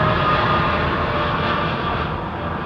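A jet airliner departing London Heathrow roars loudly and steadily, its broad engine noise close and dominant, easing slightly in power toward the end with no talk over it.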